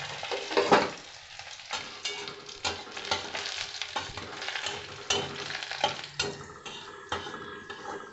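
Urad and chana dal fry in hot oil in a kadai with a busy close crackle and sizzle, punctuated by a few stirring scrapes and taps.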